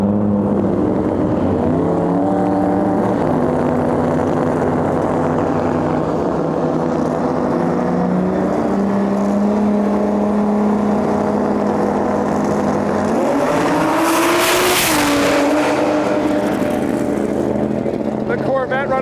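Drag racing cars making passes down a strip, with a Corvette on a run: loud sustained engine roar rising and shifting in pitch, near and dominant, building to a brief harsher burst near the end.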